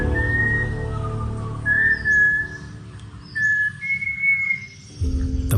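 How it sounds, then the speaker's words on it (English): A Malabar whistling thrush in an Indian forest gives several clear, drawn-out whistled notes with pauses between them, moderately close and alone over quiet background ambience. "The Malabar whistling thrush."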